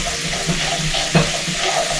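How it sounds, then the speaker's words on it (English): Meat browns in a pan with a dense, continuous close sizzle and one brief stir or shift of the pieces midway, no voices. "Whenever you're browning meat, you don't just want to cook it till it's brown."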